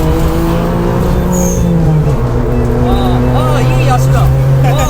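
A turbocharged Suzuki Alto HA23V engine drones steadily at high revs while driving, loud and continuous, with a rising and falling whine and people talking over it.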